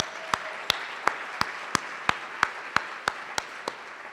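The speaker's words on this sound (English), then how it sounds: "Let's give them a round of applause." Audience applause at the 2015 HRC Foundation Time to Thrive conference: a soft wash of clapping with about a dozen sharp, evenly spaced louder claps standing out over it, moderately faint.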